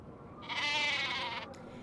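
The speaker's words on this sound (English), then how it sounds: "that sheep sounds like it's possessed" Sheep in the Nancy Drew: The Haunting of Castle Malloy video game gives one wavering, strained bleat lasting about a second, clear and fairly close, with nothing else heard.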